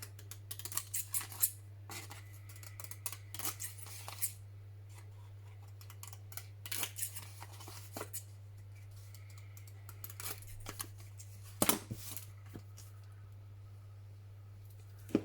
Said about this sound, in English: edges all the way round. Trim these off.